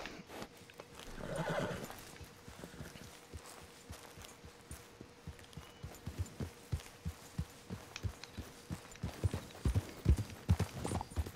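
In Red Dead Redemption 2, a horse whinnies loudly near the start, then hooves clip-clop in a steady rhythm that grows louder and quicker toward the end.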